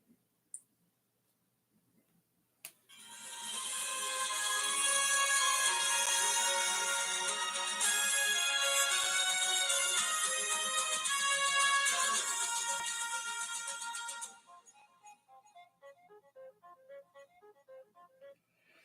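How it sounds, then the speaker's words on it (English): A mobile phone ringtone goes off during a live stream, playing a loud, dense melodic tune for about eleven seconds before trailing off into fainter, fading notes, with no talking. "Oh, phone."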